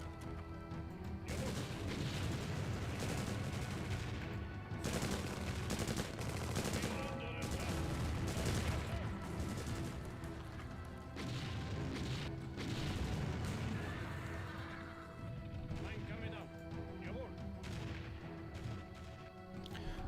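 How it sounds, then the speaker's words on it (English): Artillery fire and battle noise in the real-time strategy game Empire Earth, a dense continuous barrage of booms and gunfire rolling on for the whole stretch, loud and busy with faint talk mixed beneath. "Oh, artillery."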